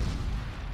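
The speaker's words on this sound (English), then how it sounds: "Grenade over my head?" A grenade explosion in the World War II shooter Forgotten Hope 2, heard as a single heavy, low booming blast with a rumbling tail.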